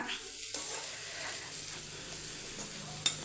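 Food sizzles steadily in a hot pan while a utensil stirs and mixes it, giving a constant frying hiss with a few soft scraping clicks and no talking.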